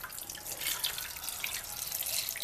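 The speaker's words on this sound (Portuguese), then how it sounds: "E vamos colocar mais um pouco de água" Water pours steadily into a pressure cooker pot over a cloth bundle for hummus, a close continuous splashing stream with no talking.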